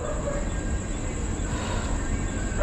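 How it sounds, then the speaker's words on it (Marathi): A Kasara local train arriving at a station, a steady, loud rumbling roar of wheels and carriages that holds evenly throughout, with a faint high whine above it. "आपली कसारा ट्रेन आलेली आहे."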